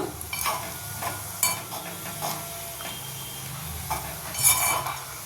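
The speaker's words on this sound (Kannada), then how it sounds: "ಈಗ ಮಧ್ಯೆ ಈ ರೀತಿ ಕೈ ಆಡ್ತಾನೇ ಇರಬೇಕಾಗತ್ತೆ ನೀವು" Orange peels simmering for several minutes in a small pan of face oil are stirred by hand, with a soft steady sizzle broken by scraping strokes and a few light clinks against the pan.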